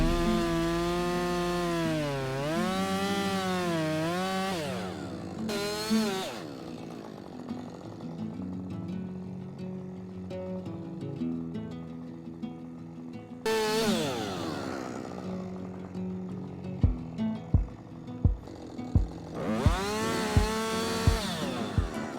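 A chainsaw cutting up a firewood log, the engine revving and whining in long pitched bursts with quieter idling between, then a series of sharp knocking hits near the end.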